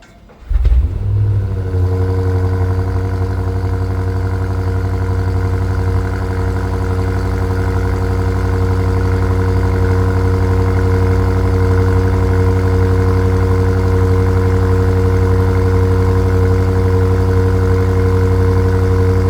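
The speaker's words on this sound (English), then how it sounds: "So how did you like that V8 cold start sound?" A 2026 BMW M5 Touring V8 fires up from cold in dynamic mode: a sharp starter burst and flare, then settling into a loud, steady, deep idle with a strong low hum that holds to the end, close by.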